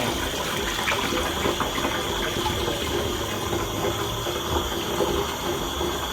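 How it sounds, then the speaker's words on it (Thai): Filtered mulberry wine pours into bottles with a steady, close splashing trickle of liquid that runs continuously and evenly throughout, with no voices. "หลังจากที่เขากรองเสร็จแล้วเขาก็ จะกรอกลงในในขวดนะเจ้า"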